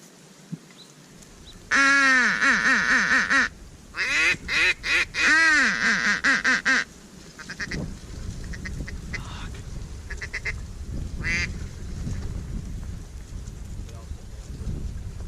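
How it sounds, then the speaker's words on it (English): Loud, harsh duck quacks burst in a rapid series of calls, close by, then give way to a noisy background with a voice talking. "Look at all those ducks."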